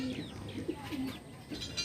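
Delhi pigeons in a loft give soft, low, repeated coos, several short calls in a loose rhythm, fairly faint and close, over quiet background noise.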